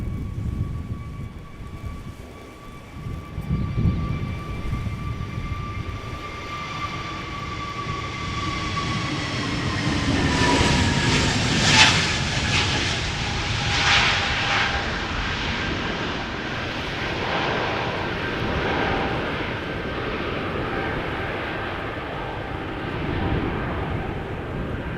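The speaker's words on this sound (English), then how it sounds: "Next up, BA to London Heathrow, A321 Neo, flight 423." A British Airways Airbus A321neo, five years old, takes off from Schiphol's Polderbaan bound for London Heathrow, its loud engine roar building with a falling whine as the jet passes close and then recedes into a sustained rumble.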